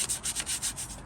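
Quick rhythmic scrubbing of motorcycle parts with a toothbrush, about eight brisk back-and-forth bristle strokes, close up and fairly soft.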